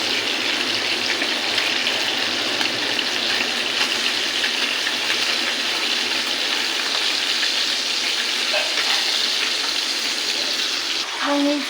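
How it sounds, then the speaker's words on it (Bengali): Khaira fish rubbed with salt and turmeric sizzle in hot oil in a kadai, a steady loud hiss and crackle that holds without a break. "মাছগুলোকে ভেজে নেব।"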